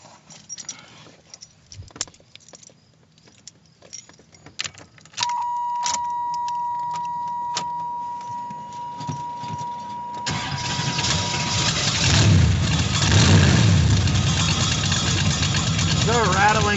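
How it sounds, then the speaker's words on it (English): A 1985 Chevrolet Camaro Z28 is started: keys jangle and clicks, a dash chime tone, then the engine cranks, catches and settles into a loud rumbling idle with a loose baffle rattling. A voice speaks briefly near the start. "let's fire it up"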